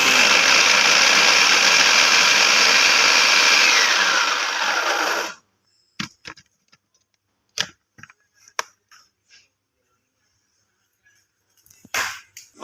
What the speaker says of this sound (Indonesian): Ayo kita blender.